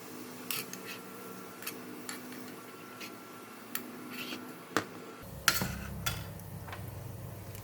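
Crispy fried garlic is lifted out of a pan with a utensil after the heat is switched off, for a tofu stir-fry. Sparse light clicks and taps build to a louder clatter near the end, over a low background hum.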